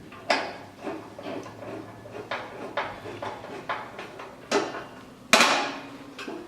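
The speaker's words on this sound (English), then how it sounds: "Simply screw it again. I've got my trusty screwdriver" Screwdriver driving a screw to fasten the gas pipe on a 2019 Weber Genesis gas grill, giving a series of sharp metallic clicks and knocks at an uneven rhythm, close and fairly loud with no talk.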